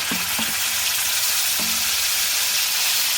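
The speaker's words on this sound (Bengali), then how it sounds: "সর্ষে কাঁচা লঙ্কা বেটে রাখা এটা তেলের ওপর দিয়ে দেবো" A paste of ground mustard and green chili frying in hot oil, giving a loud, steady, close sizzle throughout, with a few faint knocks of a utensil early on.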